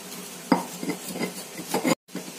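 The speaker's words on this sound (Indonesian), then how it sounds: "Ini kita ulek sampai halus" Spices with salt are ground in a stone mortar and pestle, with scraping, knocking strokes at an uneven rhythm, close up and alone apart from a short dropout near the end.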